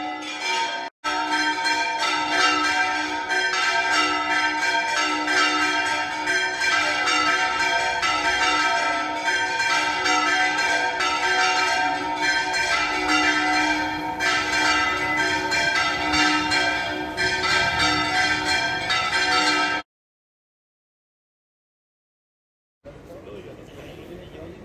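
Church bells ring from an old tower in the Andalusian town of Écija, loud and sustained with overlapping tolls, then cut off abruptly near the end; no talk is heard over the ringing.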